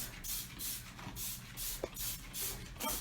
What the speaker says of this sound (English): you're gonna spray the ledges, spray down into the tub, spray from top to bottom